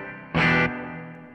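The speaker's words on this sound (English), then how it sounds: "So this is the Hall of Fame, just set to a slight hall sound." A Telecaster plays through a TC Electronic Hall of Fame reverb pedal and a Two-Rock amp on a slight hall setting: a sustained tone with one short, bright strummed burst whose reverb trails away quietly.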